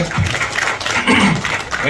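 Audience applause at a Kannada stage event, a short broadband wash of clapping heard partly under a speaking voice.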